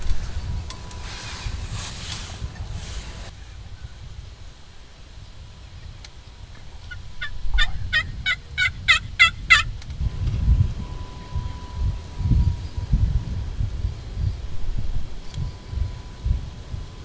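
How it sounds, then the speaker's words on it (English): A wild turkey gobbles off the roost on an opening spring morning in Kansas, one loud rattling gobble burst close by, with early faint calls, then rustling and movement noises. "We got a bird coming from the right off the roost."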